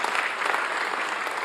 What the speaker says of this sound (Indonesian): Berikan tepuk tangan bagi nama Tuhan Yesus Kristus